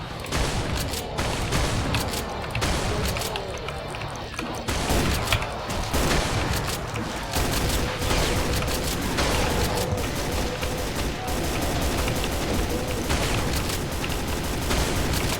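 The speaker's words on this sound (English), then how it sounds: "Use more shotgun for this stuff." Relentless shotgun and weapon fire in the retro shooter Brutal DOOM, a loud, nonstop barrage of blasts and booms with crashing impacts and no pauses.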